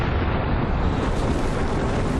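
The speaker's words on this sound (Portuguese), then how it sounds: "o universo sofreu uma grande explosão que arremessou o espaço para fora" A Big Bang explosion sound effect rumbles as a sustained, thick, loud roar with no distinct onset, booming evenly throughout without any voice.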